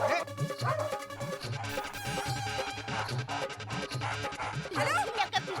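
A dog on the Hindi sitcom Taarak Mehta Ka Ooltah Chashmah barks and yips in quick bursts, mixed under steady background music.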